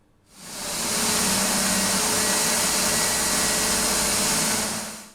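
A blender whirs through an avocado and cilantro sauce, spinning up quickly into a loud, steady motor roar that holds for several seconds before winding down at the end.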